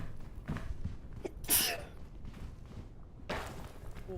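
A single sharp sneeze bursts out close by amid quiet room noise, followed by another brief breathy burst moments later.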